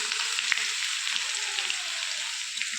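Mustard seeds, cumin, garlic and chillies sizzle steadily in hot oil, close by, with a bright, hissing crackle and a few small pops.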